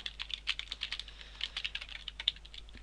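Quick, light keystrokes tap out code on a computer keyboard, an uneven run of soft clicks close by and fairly quiet, with no one speaking.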